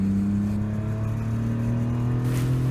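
A car drives along a bumpy road in Scotland, its engine holding a steady low hum with some whir and faint rattling from the uneven surface throughout.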